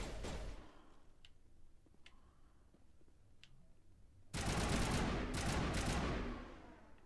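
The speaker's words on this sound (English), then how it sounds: "Why are they shooting at me?" Gunfire in the Mass Effect video game: a few sharp distant shots crack early, then a loud sustained burst of rapid automatic fire erupts for about two seconds.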